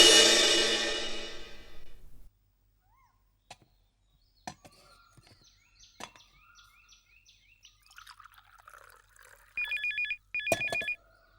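An electronic phone ring sounds in two short bursts near the end, after a loud opening noise and scattered clicks and taps in a quiet room.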